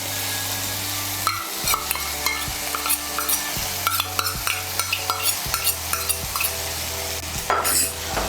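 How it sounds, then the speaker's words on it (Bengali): Poppy seed paste is stirred into spice masala frying in a pan while cooking a prawn dish, with a spoon scraping the pan in repeated strokes over a continuous sizzle and low steady hum. "পোস্ত বাটাটাকে ভালো করে মিশিয়ে নেব মশলার সঙ্গে।"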